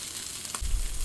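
Shrimp frying on a Blackstone griddle give off a steady, close hiss of sizzling, with a low thump partway through the short burst.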